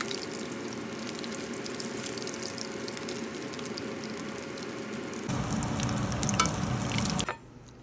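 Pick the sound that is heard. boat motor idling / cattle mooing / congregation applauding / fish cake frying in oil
fish cake frying in oil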